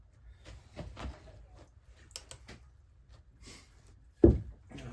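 A piece of wood being split with a froe gives off scattered faint clicks and creaks, ending in one sharper crack near the finish.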